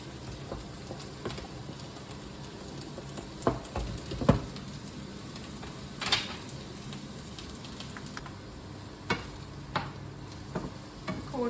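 Courgettes, peppers and mushrooms frying in a pan while being stirred, a soft steady sizzle broken by scattered clicks and scrapes of the utensil, close up with no talking.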